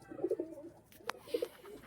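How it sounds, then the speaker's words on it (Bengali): Star Kalanka pigeon cooing in its loft, two soft clustered bursts of low coos with a brief sharper noise between, close and fairly quiet with no talk. "সেইখানে গিয়ে ডাক মারছে দেখুন কেমন ওই এ পায়রাটা"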